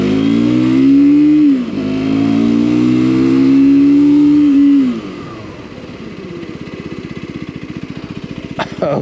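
A Mondial Piega 125cc motorcycle revs loud and close, climbing in pitch through two quick gear changes as it accelerates, then drops to a lower, pulsing idle-like rumble while braking, ending with a brief sharp click.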